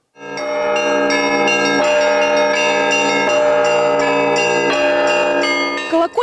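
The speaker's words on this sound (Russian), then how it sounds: "Колокольный звон на всю округу." Church bells ring loudly and continuously, with repeated strikes layering into a rich, sustained metallic peal.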